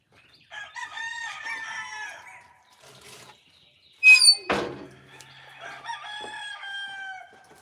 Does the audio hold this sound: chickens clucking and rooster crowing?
yes